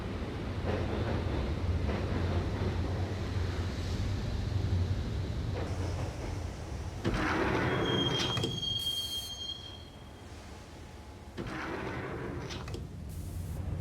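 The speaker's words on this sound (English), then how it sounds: "the train doors had already shut behind me, and I was in for the ride" A subway train ride in the video game Max Payne: a loud, continuous rumble of wheels on rails with a high metallic squeal of braking midway, the roar easing and then rising again.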